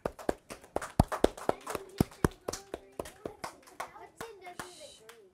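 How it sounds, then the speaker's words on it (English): Children clapping in a classroom during a student-taught lesson, a quick run of sharp distinct claps from a small group, fairly close and slowing toward the end, with a voice briefly mixed in. "Let's give her a round of applause"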